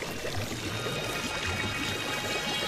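Water running in a steady stream, as in a dubbed Doraemon cartoon scene on an island, flowing continuously at moderate level with no talk over it.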